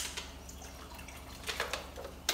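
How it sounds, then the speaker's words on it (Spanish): Water poured from a small bottle into a pot of beans being cooked, a faint splashing trickle with a few brief louder splashes toward the end, no talk over it. "Voy a dar una botellita de agua. Un poquito de agua nomás."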